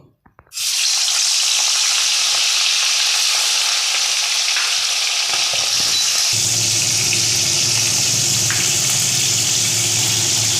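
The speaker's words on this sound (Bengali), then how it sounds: "আমার তেলে এবার আমি মাছের মাথাগুলো ভেজে নেব" Fish heads drop into hot oil in a wok on a high gas flame and burst into a loud, continuous sizzle that deepens and thickens partway through, with no talking.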